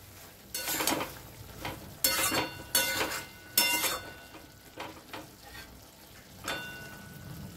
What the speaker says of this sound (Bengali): চিংড়ি মাছগুলো দিয়ে একটু নেড়ে চেড়ে দিলাম।